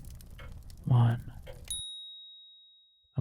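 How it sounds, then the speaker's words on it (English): A single bright bell chime rings out clearly and hangs in a long fading tone after a voice speaks, in a hypnosis relaxation recording. "A bell chimes and you drop."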